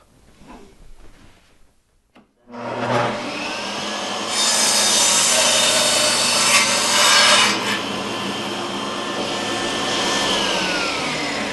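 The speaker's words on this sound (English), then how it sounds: "I'm over at the table saw." A table saw cuts a piece of wood pushed through on a sled, starting with a sharp rise into a loud, steady whining rip of blade through timber that lasts several seconds.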